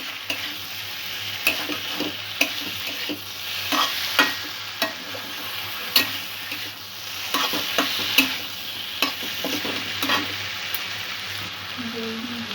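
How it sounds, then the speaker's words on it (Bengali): Sweet potato with spices stirred and fried in a pan, with a steady sizzle broken by repeated scraping strokes of a spoon against the pan at a close, moderate level. "আলুর সাথে মশলাটা কষা হয়ে গেছে"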